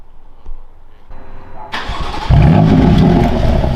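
A BMW M4 fitted with Eventuri v2 intakes and BP Engineering titanium chargepipes, running a custom tune, cranks briefly, then fires into a loud, raspy engine roar that settles toward idle, recorded up close.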